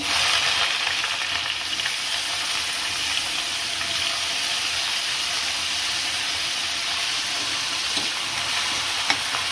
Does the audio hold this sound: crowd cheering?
no